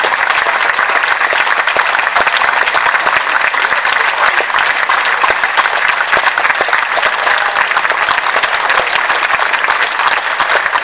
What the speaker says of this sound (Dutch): Dus groot applaus voor de sponsors.